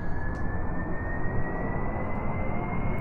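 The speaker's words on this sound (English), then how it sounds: "So we're going to throttle up, full throttle." Rocket engine at full throttle in Kerbal Space Program, a steady, loud, broadband roar with a thin rising whine running through it, continuous and unbroken.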